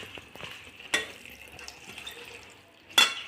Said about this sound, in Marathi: सर्वप्रथम भाजी मी स्वच्छ दोन तीन पाण्याने स्वच्छ धुवून घेणार आहे